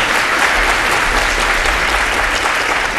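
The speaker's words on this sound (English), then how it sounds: "Let's give him a round of applause." Audience applause at a GraphQL tech talk, following a speaker introduction: dense, steady clapping from a crowd, loud and continuous throughout with no voices over it.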